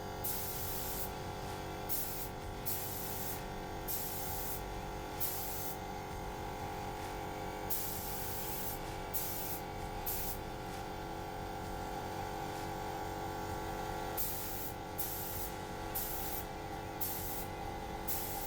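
Steady aerosol spray hissing in repeated bursts with short pauses between, close and fairly loud, no talking, as an awkwardly shaped LARP claw is spray painted.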